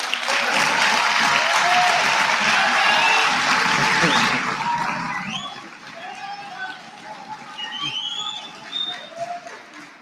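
A large audience at a national student council induction gives a loud, sustained round of applause that fades after about four seconds, leaving softer scattered clapping with murmuring voices and chatter underneath.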